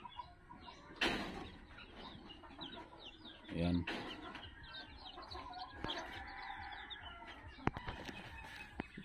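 Hens and many young chicks cluck and peep in a newly built chicken run where some hens are brooding, the calls scattered and close, with brief bursts of handling noise and a person speaking briefly.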